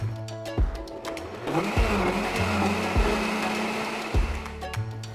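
A blender grinds a flan mixture of condensed milk, vanilla and eggs, running loud and steady for several seconds and shifting pitch as the motor speeds up and slows.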